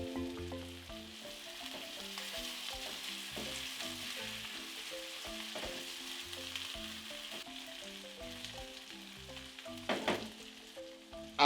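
Garlic and a teaspoon of tomato paste sizzle and fry in a pot as the base of a pork and potato stew, a steady close crackle with stirring and light scrapes.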